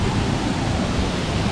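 A waterfall near Chiang Mai, Thailand, pours with a loud, steady, dense rushing hiss that stays even throughout, with no talking.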